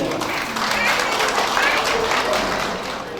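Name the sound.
wedding guests clapping to give consent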